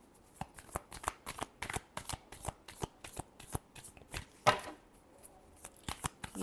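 Tarot cards shuffled by hand in a rapid run of crisp riffling bursts, close and fairly loud, with one sharper snap near the end and no talking.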